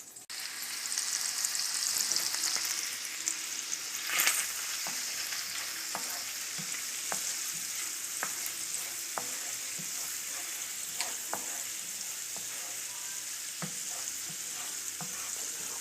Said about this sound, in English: Just saute that garlic a little bit.